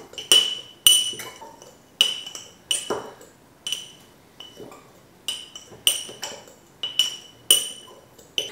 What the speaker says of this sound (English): let's grab a fork and mix all these ingredients very well together